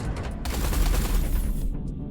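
Artillery fire in the space game Everspace 2 erupts as a dense, rumbling barrage of blasts that fills the moment, then cuts off abruptly.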